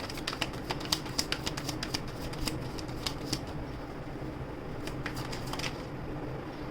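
Tarot cards are shuffled by hand for a card reading, giving a steady run of close, crisp riffling clicks and snaps over about seven seconds.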